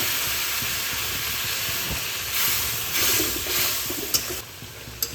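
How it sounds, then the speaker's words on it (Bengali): Bengali fish gravy with coriander powder boiling steadily in a pan after hot water was poured into the spice mix, a continuous loud hiss and bubbling with a few sharp sizzling pops near the end. "গ্রেভিটা ফুটে গেছে।"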